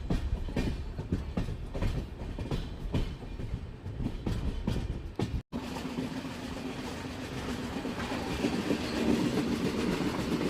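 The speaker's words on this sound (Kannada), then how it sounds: "ನಮ್ಮ ಟ್ರೈನ್ ಈಗ ಘಟ್ಟಪ್ರಭಾ ನದಿನ ದಾಟ್ತಿದೆ." Passenger train on the Miraj–Belagavi line crossing the Ghataprabha river, heard from onboard as a loud steady rumble with rhythmic clickety-clack of wheels, shifting after a brief dropout to a broader, hollow roar of the bridge span.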